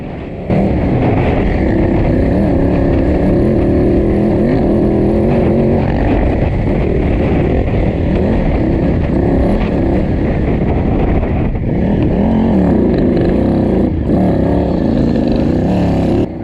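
A KTM 990 motorcycle racing through the desert in the 2023 Mint 400, its engine a loud, continuous close drone with rising and falling revs and wind rush, no voices.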